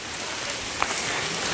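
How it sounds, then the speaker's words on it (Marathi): Rain falling steadily on surfaces in a village during the monsoon, a dense, even hiss of drops close by, with one brief louder tap, no voices. "हे बघा पाऊस पडतोय."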